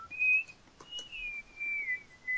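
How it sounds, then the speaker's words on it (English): A person whistles a thin, wavering tune in two or three sustained phrases with brief gaps, fairly clear and close over a quiet background. "Stop whistling."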